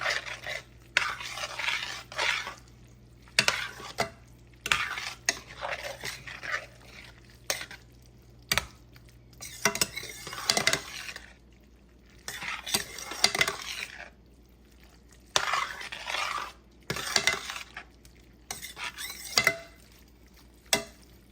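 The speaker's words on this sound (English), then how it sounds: "And give this a stir and kind of get this heated through." Repeated bursts of spoon scraping around a pan as a reduced fat cheese mixture is stirred and heated, a light sizzle underneath, separated by short quiet pauses and no talk.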